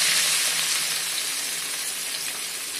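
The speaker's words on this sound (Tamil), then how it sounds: "பொடியா நறுக்கி வச்சிருக்கிற பூண்டு போடுற முதல்ல. அது வதங்கிட்டே இருக்குது." Chopped garlic and onion sauté in a hot pan for chicken fried rice, giving a loud, even hiss of sizzling that fades slightly over a few seconds. No one speaks.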